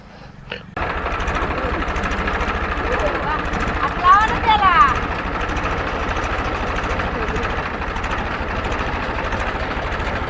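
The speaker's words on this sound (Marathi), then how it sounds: "ट्रॅक्टर चालू" A tractor's diesel engine chugs steadily at a low, even rhythm, running continuously after a sudden start, with a brief higher whine midway.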